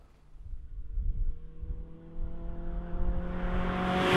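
A Lotus Elise engine with a Ford 2-to-1 exhaust rumbles low, then revs up with a rising, throaty exhaust note that grows louder and brighter toward the end.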